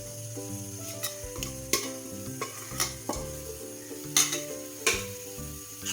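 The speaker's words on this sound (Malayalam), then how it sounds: "നമ്മളിത് നന്നായിട്ട് ഇളക്കിയെടുക്കും" Jaggery syrup mixture is stirred in a pan, with a steady soft sizzle and scraping strokes of a utensil recurring every second or so, while a tonal background hum runs beneath.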